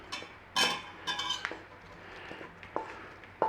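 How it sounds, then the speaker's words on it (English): Cooked onions tipped in with clinks and scrapes of a utensil against a pot holding beef for a steak and onion pie, a few sharp metallic knocks and softer stirring sounds spread out over quiet kitchen background. "We're going to add those onions."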